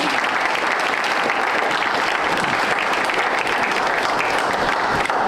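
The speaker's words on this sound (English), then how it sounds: "You should all give yourself a round of applause for all of the volunteer hours that you provide to LRH" An audience of volunteers at the 2019 Littleton Regional Hospital volunteer celebration claps, and the close, full applause holds at an even level throughout.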